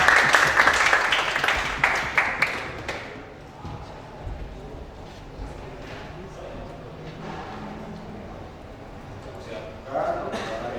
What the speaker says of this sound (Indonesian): Yuk, kasih aplaus buat temannya belakangnya.